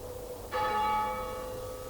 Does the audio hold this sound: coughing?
no